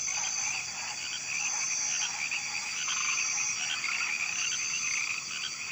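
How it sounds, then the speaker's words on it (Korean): A dense chorus of frogs croaks at night from a pond beside a camp, an unbroken, loud wall of overlapping trills and calls lasting throughout with no pauses. "그 지역의 모든 개구리들이 캠프 옆 연못에 모여 밤새도록 울어대는 것 같았죠"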